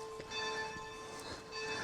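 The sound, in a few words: single church bell ringing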